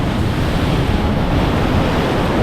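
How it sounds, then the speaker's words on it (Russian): Large ocean waves break steadily onto a beach in Mexico, a loud continuous roar of surf with wind buffeting the microphone and no voices. "Нужно понимать, как зайти в воду, чтобы не попасть под эту большую волну, которая здесь разбивается о берег."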